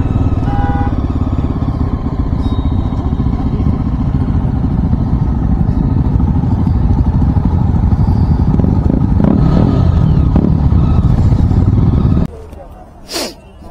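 Motorcycles of a bikers' group arrive at an anniversary ride gathering with a loud, steady, close engine rumble throughout, then the sound cuts out suddenly at the end.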